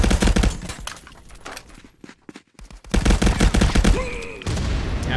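Bursts of automatic gunfire in the VR shooter ContractorsVR, loud and dense, with a quieter gap in the middle before heavy firing resumes alongside a frag grenade blast and clatter.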